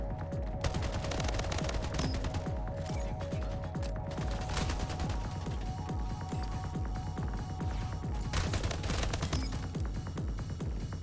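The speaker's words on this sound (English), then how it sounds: "You got the assault rifle." Dense, continuous assault rifle fire in the arena shooter Splitgate, sustained rapid bursts with a constant mechanical throb, loud and close with no talking.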